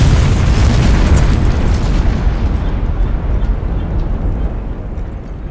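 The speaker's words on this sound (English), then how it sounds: "The explosion shook the camp and rocked that canyon echoes" Explosion of a fused charge in a bunkhouse at a canyon camp, a loud sustained roaring boom with heavy rumble that slowly fades as it echoes.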